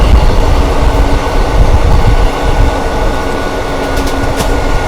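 Indian Railways 12302 New Delhi–Howrah Rajdhani Express passing close by, a loud continuous rumble and rail roar with steady wheel noise and faint high squeals, no talk.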